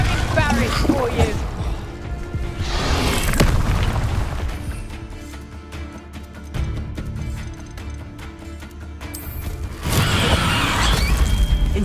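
Spell blasts from Confringo and Incendio in Hogwarts Legacy, booming, crashing bursts during a fight, loud at the start, again near three seconds and at the end, over ongoing game sound and music.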